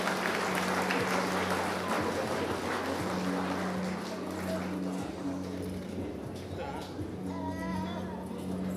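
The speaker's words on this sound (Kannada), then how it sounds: "ನಾಗರಾಜ್ ಗೌಡ ಅವರಿಗೂ ಸಹ ಚಪ್ಪಾಳೆ ಬರಬೇಕು" An audience at a state medal award ceremony claps in a steady, moderately loud wash that thins toward the end, with a constant hum and voices speaking over it.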